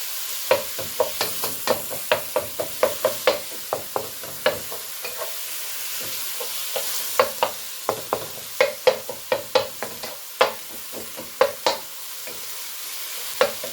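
Chicken sizzles in a hot pan under a steady hiss, broken by frequent sharp scraping clacks of a utensil stirring and chopping it for lettuce wraps.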